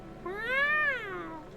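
A single drawn-out cat meow in a video game rises and falls in pitch, clear and close, with no talking over it.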